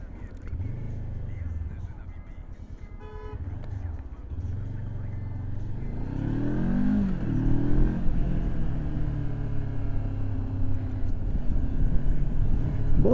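A motorcycle rides through city traffic, its engine rumbling low and steady, then rising in pitch as it accelerates, with a voice talking over the ride throughout.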